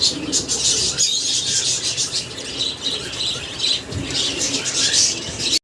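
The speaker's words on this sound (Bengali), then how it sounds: "পাখির দোকানে এতক্ষণ পাখির যে কিচিরমিচির ডাক শুনলেন" Many caged birds in a pet bird shop that also sells pigeons keep up a dense, constant chirping and twittering, fairly loud and close throughout.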